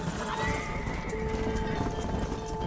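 Horse hooves clip-clop steadily in Red Dead Redemption during a cattle drive, a continuous trotting patter with a faint whinny, set against steady outdoor game ambience and no talk.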